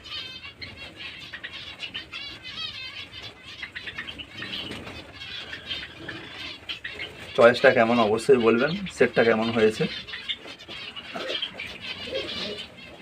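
Pigeons coo and flap their wings close by, soft throaty calls and bursts of wingbeats running under someone talking throughout.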